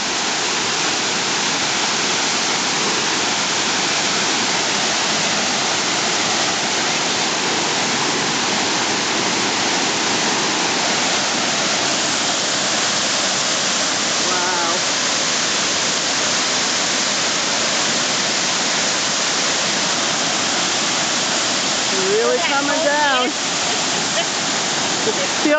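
A full waterfall pours in the New Hampshire woods, a loud, steady rushing roar that holds throughout with no talk over it.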